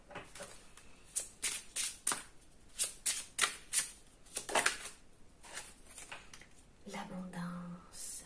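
Tarot cards being shuffled by hand, a run of quick riffling bursts and soft slaps close by, then a short low hum near the end.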